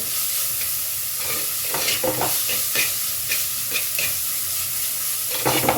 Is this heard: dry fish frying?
yes